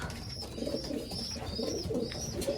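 Racing pigeons coo in a loft, low throaty repeated coos in a steady rhythm close by, with faint higher chirps over them.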